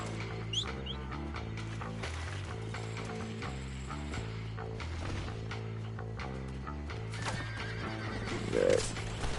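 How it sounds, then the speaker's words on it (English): A horse in the video game Red Dead Redemption whinnies and clip-clops along over a steady musical backdrop, with a louder snort or neigh near the end. "Now my horse walks off."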